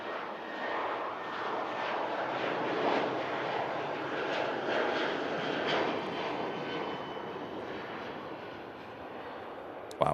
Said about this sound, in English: Wow, that's quite an early rotation for Jet 2.